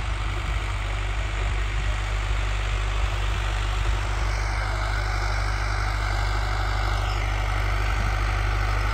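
A tractor works under load in a partly ploughed field, running in high first gear with a loud, steady, close engine drone that holds unbroken throughout.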